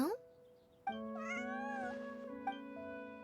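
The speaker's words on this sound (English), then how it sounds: "She licks her tail, meows loudly." A cat meows in the video game Genshin Impact, a drawn-out tonal cry near the start followed by a longer wavering meow, loud and close over soft in-game music.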